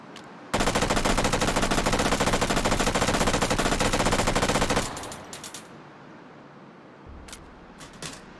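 A FAMAS G2 rifle in a VR shooting game fires long sustained automatic bursts to empty its magazines, loud and rapid for about four seconds, then a few scattered clicks and clatters as the action stops.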